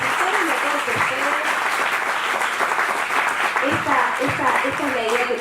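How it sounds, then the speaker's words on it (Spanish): A strong round of applause from the audience at a legal professionals' gathering in Córdoba, steady and continuous dense clapping with voices murmuring through it. "Le vamos a dar un fuerte aplauso a todos."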